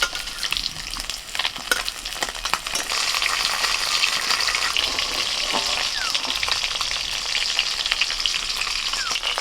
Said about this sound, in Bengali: একটু হালকা করে ভেজে আমি তুলে নিচ্ছি।